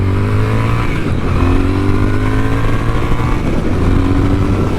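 A tuned Triumph Speed Twin motorcycle engine pulls hard under acceleration, its tone climbing in a few steady rising sweeps as the bike shifts up, loud and close with no talk.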